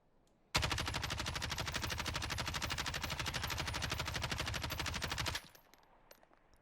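Sustained automatic fire from a Kilo assault rifle with a 60-round magazine in Warzone, a loud rapid rhythmic burst lasting about five seconds, then stopping abruptly.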